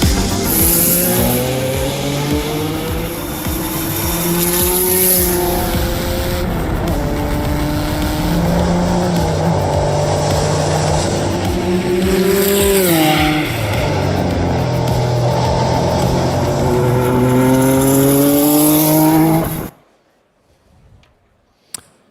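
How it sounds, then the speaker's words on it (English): A loud 1985 Porsche 962 race car engine runs continuously, revving up and down with a rasping roar, then cuts off abruptly, leaving near silence. "is the 1985 Porsche 962 that you can hear right now"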